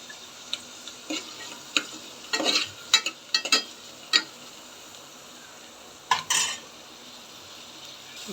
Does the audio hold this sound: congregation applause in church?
no